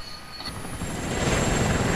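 A helicopter in Arma 2: Operation Arrowhead, a loud close rotor and engine roar that swells and thickens over two seconds with a steady high whine on top.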